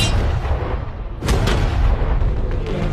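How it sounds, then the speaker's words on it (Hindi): A tank in a save-the-money game fires its first shot, a heavy boom over a constant dense rumble of game noise, with a sharp blast about midway followed by a rolling echo. "ये 5 टैंक्स पैसों पर निशाना लगाकर 20 राउंड फायर करने वाले हैं"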